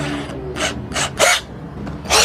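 Ratcheting clicks and rasps from a drill chuck being hand-tightened on a 12 mm masonry bit for concrete drilling, in four or five short bursts separated by brief pauses.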